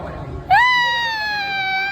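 A single loud, sustained high-pitched scream on an amusement park ride bursts out suddenly and holds for over a second, close and piercing.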